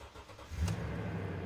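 A used truck with about 97,000 miles and undercarriage damage starts up, its low engine rumble swelling briefly and then settling into a steady idle close by.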